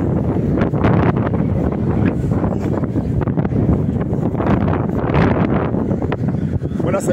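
A heavy, continuous wind roars across the microphone on a street in Luton, UK, dense and gusting throughout, close and loud, with a faint voice buried underneath.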